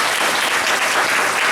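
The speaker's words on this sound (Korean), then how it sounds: "우리 박수 한번 보내줄까요?" Loud, dense applause from a church youth congregation, a continuous wash of many hands clapping close by with no voices standing out.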